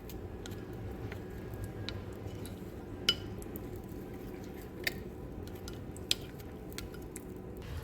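Kaolin clay face mask is mixed with water in a small dish, a faint, steady wet squishing with a few sharp ticks and clinks of the stirring tool.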